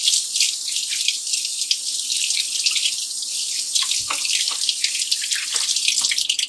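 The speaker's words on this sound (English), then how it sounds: "So we're going to have to wash the spoon." A spoon being washed under a running kitchen sink tap, a steady hiss of flowing water with occasional splashes and clinks as the spoon is rinsed, close and continuous with no talk.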